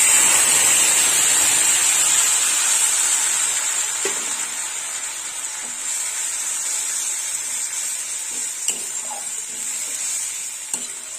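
Tomato paste fries in hot spiced oil with a bright, loud sizzle that slowly eases, broken by a few soft clinks and stirring scrapes.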